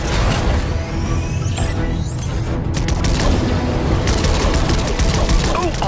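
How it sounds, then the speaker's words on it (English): Battle Bus laser cannons in Fortnite fire at drones in a loud, dense barrage of rapid zapping shots with booming blasts, continuous over game noise with no talk. "I was hoping we'd have an excuse to try out the Battle Bus's laser cannons."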